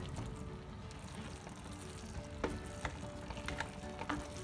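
Bottle gourd (lauki) halwa is stirred in a frying pan with melting sugar and milk, giving a close, steady sizzle with a few louder scraping strokes and no talking.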